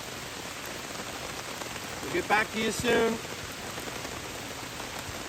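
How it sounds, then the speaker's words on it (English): Rain drumming on a tarp set up at a campsite in Port Burwell Provincial Park, a steady soft hiss of drops throughout with a brief voice speaking near the middle. "I don't know if you guys can hear the rain hitting the tarp that I set up or not"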